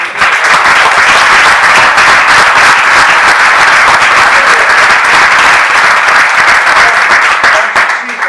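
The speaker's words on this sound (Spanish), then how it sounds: "yo pido un aplauso para ellos" Sustained audience applause at a lecture on Peronist philosophy and doctrine, a loud, dense wash of many hands clapping steadily for about eight seconds with no talk over it.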